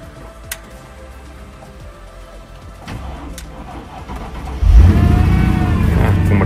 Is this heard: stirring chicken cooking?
no